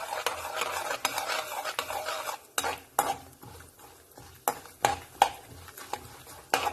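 Tempering for ripe banana upma frying in a pan while a spoon stirs it, light crackling sizzle broken by sharp metallic scrapes and taps, close up with no voices.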